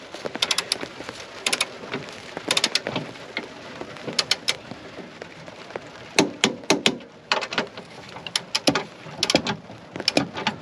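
Steady rain hisses in the background, with scattered sharp drips and taps landing close by at irregular moments.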